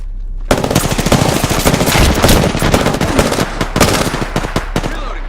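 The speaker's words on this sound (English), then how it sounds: "Shots fired and they're hitting me" Rapid automatic gunfire from a battle royale shooter such as Apex Legends or Fortnite, loud and close, with dense bursts of shots rattling continuously throughout and no voices over it.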